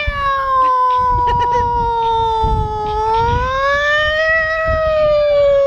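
A voice wails up and down in a long, loud siren imitation, smoothly sweeping pitch without pause.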